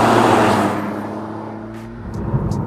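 A Ford Puma ST three-cylinder engine with stainless steel slash-cut exhausts drones loudly nearby, then fades as the car pulls away, with a brief rise at the end.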